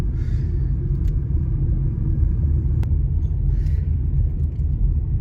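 A car rolls through a small Missouri town, its steady low engine rumble and road noise filling the cabin with no voices, and a faint click cutting through midway.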